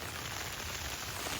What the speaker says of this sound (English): Rain's coming down on the tent.